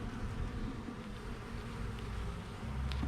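Dense, steady buzzing of many honey bees around a hive during a beekeeping session in fair weather, continuous and close with occasional louder passes of individual bees.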